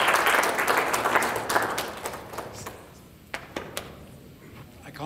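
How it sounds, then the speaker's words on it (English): Crowd applause at the 2010 Rose Parade float design unveiling, dense and loud at first, then thinning into scattered claps that fade by the end. "Would you all please give a big round of applause to Raul Rodriguez"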